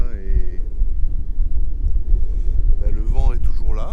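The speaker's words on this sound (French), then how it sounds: "là, le vent est toujours là." Strong wind buffets a sailboat sailing solo at sea off the Greek islands near Kos and Rhodes: a steady, loud, low rushing roar with gusts hitting the microphone, while someone talks over it.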